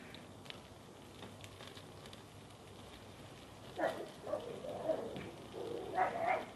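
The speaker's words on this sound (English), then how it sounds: "You got to excuse my doggy." A small dog yips and barks a few times in a short burst at moderate distance, following a quieter stretch of indoor room noise.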